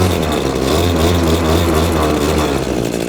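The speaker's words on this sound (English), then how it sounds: "as soon as it fires up, as I said, we can then slide the choke down. And then a little bit of rev." A Cobra MT250C petrol multi tool engine runs loud and close, revving slightly after starting, with a steady buzzing drone throughout.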